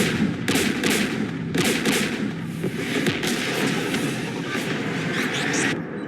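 Bursts of heavy gunfire and explosive blasts from a Mass Effect 3 battle against the Geth, repeating in rough, closely spaced volleys over a dense, continuous din of combat.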